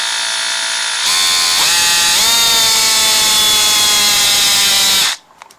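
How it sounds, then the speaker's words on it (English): A cordless drill bores out a brass carburetor jet, its whining motor loud and close, running steadily for about four seconds with a couple of brief pitch dips as the bit bites before stopping abruptly. "just start drilling"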